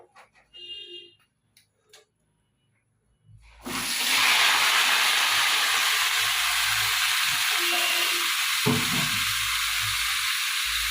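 Hot oil in a home cooking pan suddenly bursts into loud, steady spattering and hissing after wet ingredients hit it, following a few quiet clinks and a short silence.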